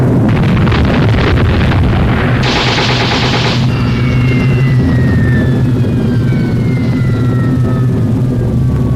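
Wartime explosions and gunfire as Lancaster bombers drop 12,000-pound bombs on the battleship Tirpitz in a Norwegian fjord, a loud continuous roar of blasts and rapid fire with a whistling descending tone partway through.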